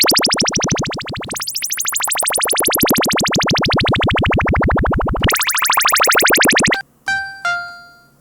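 Cherry Audio Minimode synthesizer plugin played raw with no effects: loud, buzzy sustained tones with bright harmonics sweeping up and down in pitch, ending in short, clean chime-like notes.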